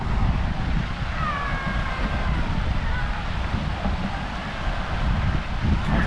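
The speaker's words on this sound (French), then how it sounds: "J'espère vraiment que vous m'entendez malgré le vent" Steady wind roaring across a microphone outdoors near a river where people kayak in Durbuy, a constant low rumble that fills the whole stretch, with faint distant tones and no talk.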